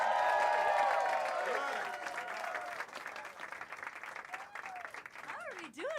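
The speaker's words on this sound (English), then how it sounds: "Start clapping" Comedy club audience applause and cheering for a stand-up comedian's introduction, a continuous mass of clapping with whoops and shouted voices over it, lively and fairly loud across six seconds.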